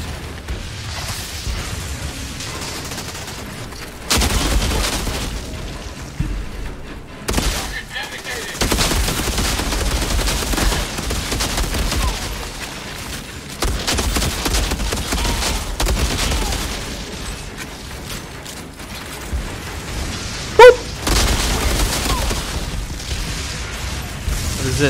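Dense video game gunfire from Outriders, with rapid automatic bursts and booming shots pounding almost continuously at close range, one sharp loud crack standing out late.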